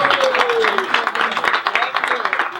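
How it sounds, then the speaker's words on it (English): An audience at a 2016 talk in Calgary on marma points and home remedies claps in a quick, uneven patter while a voice speaks over it. "Clap for her."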